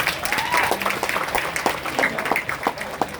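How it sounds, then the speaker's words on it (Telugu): An audience claps at a live event, a dense continuous round of applause filling the whole stretch with steady crowd noise and no break. "ఒకసారి గట్టిగా క్లాప్ చేయండి సార్ కోసం"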